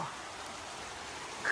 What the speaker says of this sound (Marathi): पाऊस असा जोरात आलाय